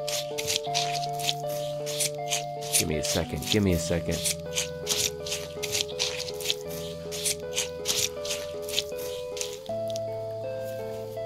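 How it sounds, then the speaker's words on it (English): In the survival game DayZ, food is cut up with a run of rhythmic wet squishing slices over steady background music tones, and someone speaks briefly. "Let's cut it up."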